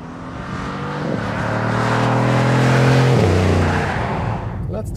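A 2020 Mercedes-AMG GLC 63 S SUV accelerates hard from inside the cabin, its engine note climbing through two upshifts as the roar builds and then eases, with a voice speaking over it.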